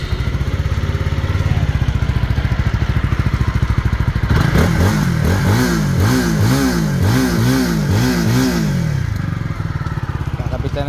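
A Rusi Cyclone RC250 FI motorcycle engine fires up and idles, then is revved in a steady series of repeated throttle blips, loud and close, with brief voices around it.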